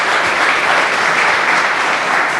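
An audience at an airport terminal ribbon cutting bursts into steady, dense applause, many hands clapping loudly and evenly throughout with no pause.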